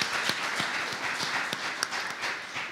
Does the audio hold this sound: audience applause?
yes